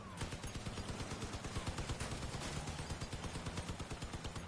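Vehicle-mounted guns in the Crossout vehicle combat game fire in a rapid, steady stream of sharp shots throughout, loud and close with no talking.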